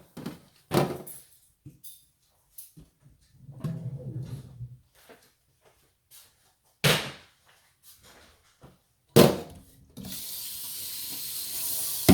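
A kitchen tap turned on to rinse, with scattered clatters and clicks beforehand, then water running steadily from the faucet into the sink at the end.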